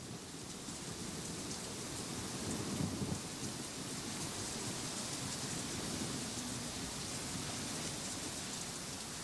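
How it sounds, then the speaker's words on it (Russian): Heavy rain pouring in a tropical forest in Thailand, steady dense hiss throughout with a low rumble of thunder swelling briefly near the start, no voices. "Начавшийся дождь становится суровым приглашением в действительность."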